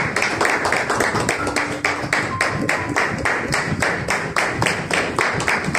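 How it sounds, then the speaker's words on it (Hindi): Church congregation applauding loudly, a strong, continuous rhythmic clapping that is close and full throughout. "थैंक यू फॉर ब्लेस जोरदार तालियों कलाम के लिए"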